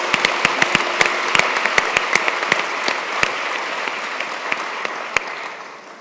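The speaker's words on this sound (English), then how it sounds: "A big round of applause." An audience at a global education and skills forum panel gives a round of applause, a dense burst of many hands clapping that slowly fades out over several seconds.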